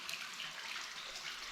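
Spring water flowing naturally out of rock at the Grotto Spring in Eureka Springs, Arkansas, a steady hissing trickle that runs unbroken and close by, with no voices.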